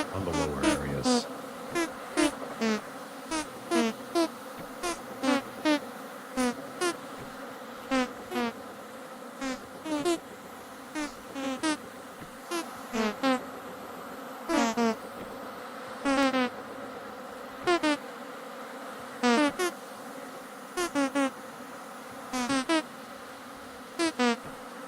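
Bees buzzing around skep beehives in the video game Vintage Story, quiet droning with repeated short buzzy bursts passing by at a fairly regular pace, with faint talk in the background.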